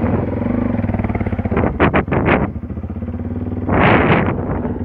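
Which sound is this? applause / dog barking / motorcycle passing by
motorcycle passing by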